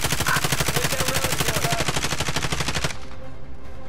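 Rapid automatic gunfire in a video game rattles loud and close in a fast, even burst for about three seconds, then cuts off into a faint ringing tail.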